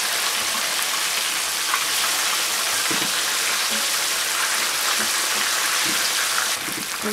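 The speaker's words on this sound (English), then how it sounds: "We've got to about 1 more minute of frying, so I'm just turning them over to crisp on the first side" Buffalo chicken wings frying in hot oil give a steady, dense, close sizzle with scattered small pops and crackles throughout, with no voices.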